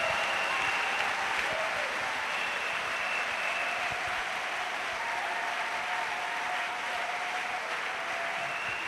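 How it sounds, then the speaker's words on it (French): A church congregation claps together as an offering to Jesus Christ, a steady, continuous wash of applause heard at a distance, with faint voices underneath. "A clap offering to Jesus Christ."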